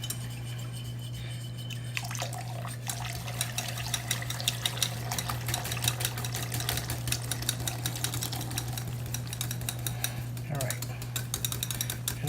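A soap mixture is stirred in a cooking pot, producing steady scraping and clinking of the utensil against the pot over a constant low hum, with the activity starting abruptly and continuing with rhythmic scratchy strokes.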